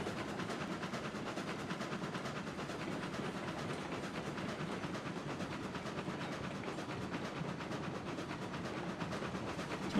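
Cordwood-fired steam locomotive, the Bullet, running in the Railroads Online video game: a steady, dense rolling rumble and hiss with faint rhythmic clatter, continuous and fairly close throughout, with no voices.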